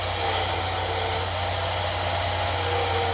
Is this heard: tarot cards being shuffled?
no